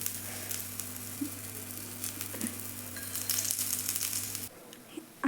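Oil sizzling in a pan while chana dal cheela fries, a soft continuous crackle with a steady low hum beneath, brief brighter bursts midway, then cutting off near the end.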